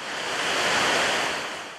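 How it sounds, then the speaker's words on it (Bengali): Rough seas churned up by Cyclone Mocha off the southeast Bangladesh coast roar as one broad, loud wash of surf swelling and easing over a couple of seconds, mixed with wind buffeting. "এই ঘূর্ণিঝড়ের কাছাকাছি সাগর খুবই বিক্ষুব্ধ"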